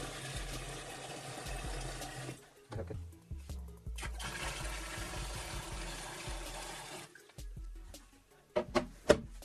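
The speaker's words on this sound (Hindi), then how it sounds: "इसमें पानी को भर लेते हैं" Water pours into the tank of a homemade air cooler with a steady, rushing splash that breaks off briefly and resumes, ending in a few sharper knocks and sloshes.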